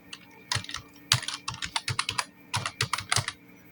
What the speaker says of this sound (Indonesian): Lalu ketikkan pendahuluan.